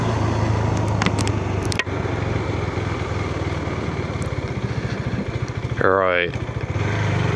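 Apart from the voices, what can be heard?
motorbike riding over a cattle grid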